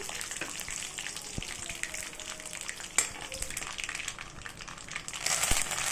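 Dried red chillies fry in cooking oil in a home kitchen, a soft continuous sizzle and crackle with a few small pops and knocks, close but low in level.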